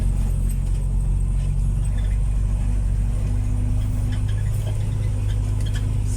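A heavy ten-wheel truck's diesel engine runs steadily and loudly close by, a deep continuous drone with a faint ticking on top and no talk.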